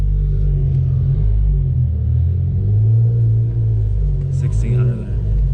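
A BMW E60 M5 held in first gear gives a deep, steady engine rumble with a strong low droning tone, loud and close, shifting slightly in pitch with a brief dip near the end.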